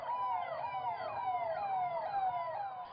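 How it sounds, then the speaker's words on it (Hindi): Delhi Police car sirens wail continuously, several overlapping tones sweeping up and down at once as a convoy circles Bangla Sahib Gurudwara, loud and steady for the whole stretch with no voices. "सायरन बजाती दिल्ली पुलिस की गाड़ियां दौड़ी"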